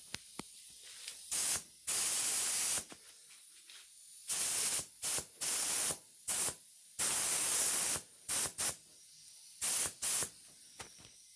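Compressed air hissing in loud bursts from a charged auxiliary air tank, roughly a dozen sharp blasts of varying length separated by quieter gaps, close to the listener, with no talk.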